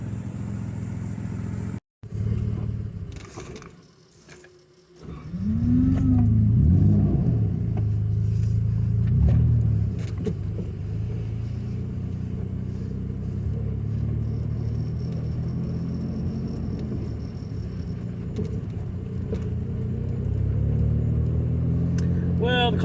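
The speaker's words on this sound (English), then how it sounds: "I just want to take it for a little test drive right up the street" A Nissan Z car runs on a short street test drive with a slipping clutch: a low engine rumble rises and holds steady, with brief revs early on and a voice speaking over the drone.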